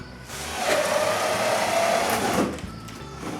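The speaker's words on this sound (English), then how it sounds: "While René drills the stud with the battery-powered drill." A battery-powered drill bores into a wooden stud, a short moderate whir that rises after a quiet start, holds for about two seconds and then cuts off, alone with no talk.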